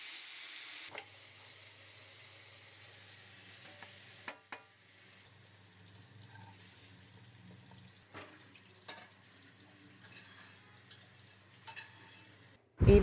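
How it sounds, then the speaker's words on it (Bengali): Banana flower fries in hot oil in a pan, giving a steady close sizzle with intermittent sharp stirring knocks and scrapes throughout, no voices. "এরপর মোছাটাকে একটু ভেজে নিয়ে তুলে রেখে দেবো।"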